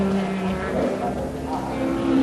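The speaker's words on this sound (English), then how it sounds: "And Greville Smith drops the flag, and the BOAC 1000 regatta is on." Sports-prototype race cars, including a Porsche 917, roar off at the start of the 1970 BOAC 1000 endurance race: a loud, sustained blend of revving engines with droning pitch lines, steady and building toward the end.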